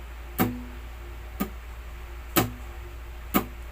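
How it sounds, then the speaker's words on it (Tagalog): Four dead-note strums on an acoustic guitar, short percussive muted chunks spaced about a second apart, close and clean with quiet gaps between. "Yung dead note strum ay katulad din ng dead note pluck."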